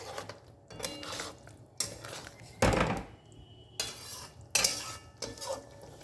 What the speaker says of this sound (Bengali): এমনি কসুরি মেথি দিয়ে একটুখানি সময় আমি নাড়িয়ে চাড়িয়ে নেবো এটাকে